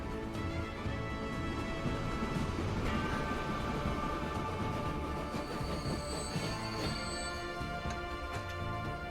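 A train in Transport Fever 2 rolls along with steady rumbling, rail clatter and high squealing wheels, continuous and fairly loud with no speech over it.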